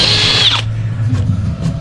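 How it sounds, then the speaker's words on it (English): A power drill whines at high speed for about half a second, drilling a hole at the base of a crack in a plastic wheelbarrow, then cuts out, leaving a low steady hum and faint clicks. "if you drill a hole at the base of the crack"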